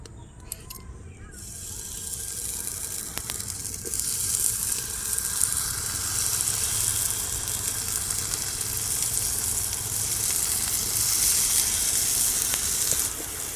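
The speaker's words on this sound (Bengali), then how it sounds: "এবার কড়াইটা গরম হয়ে গেছে এবার একটা একটা করে বেগুন ভেজে নেবো" Eggplant slices fry in a hot pan brushed with a little mustard oil, giving a steady, close sizzle that grows slightly louder after the first few seconds and continues without any talking.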